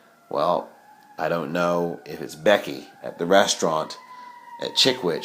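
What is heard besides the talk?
emergency vehicle siren in the background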